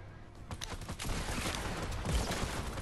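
Faint rapid gunfire from an online duo shooter game, a dense crackling volley running steadily throughout under distant game noise.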